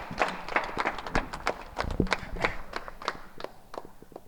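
A crowd claps for Nagendra at the opening of a pyramid meditation hall in Siddipet, a steady, moderately close patter of many hands with sharp individual slaps and no talking.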